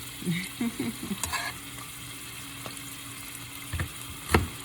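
Vegetables and onion sizzle in a stir-fry pan for a veggie stir fry, a steady close hiss broken by utensil clinks and soft scraping taps, with no one speaking.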